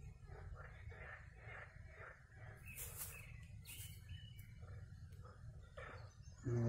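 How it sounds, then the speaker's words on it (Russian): Faint birdsong chirping in quiet outdoor surroundings at a fishing spot near Zaporizhzhia, with soft distant calls repeating over a low hum. "На рыбалке птички поют."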